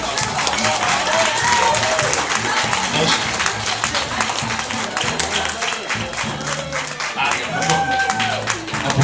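Wedding guests in Vidin break into steady, loud applause that carries on for nine seconds, with crowd voices and chatter mixed into the clapping.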